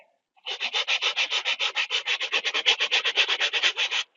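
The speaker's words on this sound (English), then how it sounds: "I use these foam sanding blocks after I get down to a certain point." Rapid, rhythmic rubbing strokes of a foam sanding block on putty, about twenty back-and-forth passes in a steady beat, close and fairly loud with no voices.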